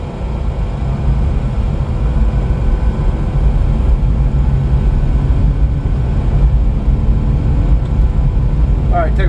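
Boeing 737-800 engines spooling at takeoff power in a flight simulator game, a steady loud roar with a broad low rumble running continuously throughout, with no voices over it.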